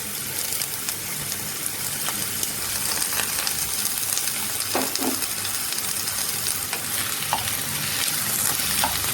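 Sliced vegetables sizzle in a hot pan for a Kerala-style dry prawn curry, a steady frying hiss with occasional scrapes and stirring knocks of a spoon, close and moderately loud with no talking.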